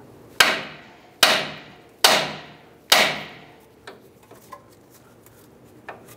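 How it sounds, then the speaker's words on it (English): A hammer strikes the steering knuckle of a 2004-2012 Chevy Colorado to pop out the tie rod end: four loud, ringing metallic blows at an even pace, then a few faint taps and clinks. "We're going to go ahead and strike the end of the knuckle. That should pop the tie rod end out."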